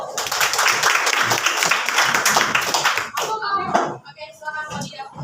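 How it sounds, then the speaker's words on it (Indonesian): Applause from a classroom audience at a discussion about personality, a burst of dense, bright clapping for about three seconds, then fading into scattered claps and voices. "Kita kasih tepuk tangan dulu."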